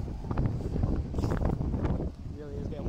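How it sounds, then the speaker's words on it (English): Gusty wind buffets an outdoor microphone in a steady, loud rumble that briefly eases and returns, with someone talking over it. "It really is getting windy as well."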